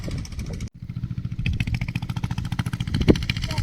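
A motor pump drives water at a prawn pond, its engine chugging in fast regular pulses close by. A brief cutout comes early, then the steady throbbing resumes.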